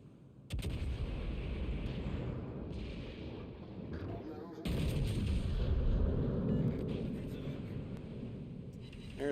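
Naval guns firing in a video game: heavy booming blasts with rumbling tails at about half a second and again near four and a half seconds, followed by sustained low rumble, with people talking over it.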